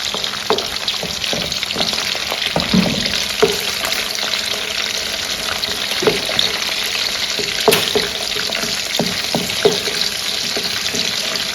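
Fermented fish frying in oil for a Ghanaian garden egg stew, a steady hiss of sizzling with scattered pops and spoon scrapes, loud and close throughout.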